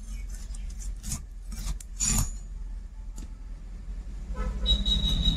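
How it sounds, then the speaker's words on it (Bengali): A knife scrapes and saws through the belly section of a large 2 kg fresh katla fish, giving close rasping, rubbing cuts in uneven strokes over a low background hum. "এবার পেটিটা কেটে নেব।"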